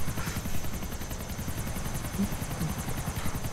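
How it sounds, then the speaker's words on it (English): Helicopter in the video game GTA IV, a steady loud rotor chop with a continuous engine whine throughout, close and unbroken, with no talk. "It was like a hit and run with the helicopter."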